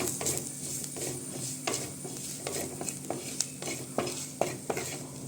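Tomatoes being stirred into a Kerala-style fish curry in a pan: a spoon scrapes and clinks against the pan in repeated strokes over a soft sizzle, close and moderately loud, with no talking.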